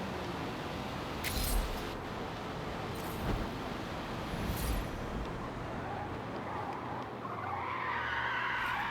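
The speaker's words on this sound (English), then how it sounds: "I absolutely lost control prior to that skid there" A Ferrari 458 Italia GTC race car skids in Forza Motorsport, a steady tire scrub of about nine seconds with a few sharper squeal bursts, fairly quiet and continuous.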